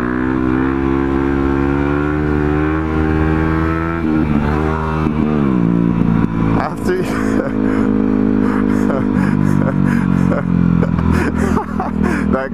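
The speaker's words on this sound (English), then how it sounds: "Let's do wheelies. Might as well. Just one. Supermoto wheelie." A supermoto motorcycle revs hard while pulling a wheelie, the engine note climbing through the gears, including fourth, with a loud, close, rising and falling roar and rattly bursts toward the end, over wind noise.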